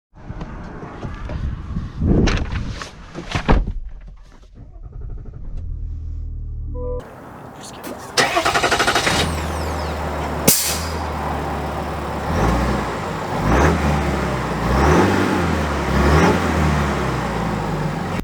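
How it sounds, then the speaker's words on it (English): A 2023 Cadillac Escalade Sport Platinum with the Duramax diesel engine cranks, catches and settles into a low, rumbling idle, then pulls away with a steady engine drone and rising revs, heard from close by. "And let's see how the diesel Escalade goes."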